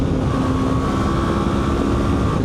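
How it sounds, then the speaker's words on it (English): A 2025 Honda NX500 motorcycle at full throttle, engine note climbing steadily into the top of the rev range with a constant drone and heavy wind rush, loud and close throughout. "Full throttle up into the top bits of the rev range."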